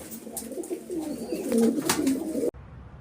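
Pigeons cooing nearby in a low, rolling murmur, several calls overlapping steadily before the sound cuts off abruptly near the end.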